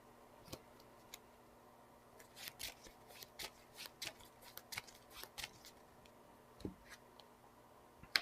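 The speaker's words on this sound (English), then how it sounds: "I will shuffle Web Shot back in" Soft riffling of a deck of Marvel Champions playing cards being shuffled at a table, a quiet run of brisk flicks and rustles through the middle, close and faint, with no talking.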